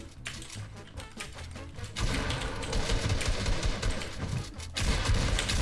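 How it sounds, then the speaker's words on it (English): Rapid bursts of gunfire in a Fortnite battle royale match, dense and loud, with overlapping shots and game noise continuing throughout. "I'm getting shot at"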